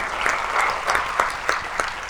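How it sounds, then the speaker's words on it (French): Studio audience applause on a French-language talk show, a steady wash of many hands clapping with a few sharper bursts standing out, moderately loud and continuous throughout. "On applaudit ça."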